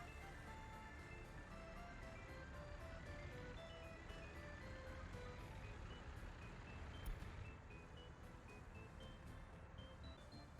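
A truck in Workers & Resources: Soviet Republic gives evenly spaced reversing beeps over a low engine rumble. The beeps are faint and distant and run throughout.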